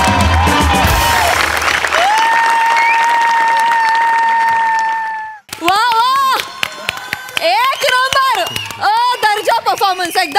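Loud audience applause with cheering after a Marathi TV comedy sketch fills the first half and stops abruptly, followed by a voice speaking over the stage.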